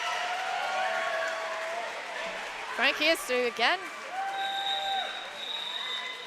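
A crowd at a junior roller derby match claps and murmurs in the background while a commentator talks over it, the applause a moderate, steady wash.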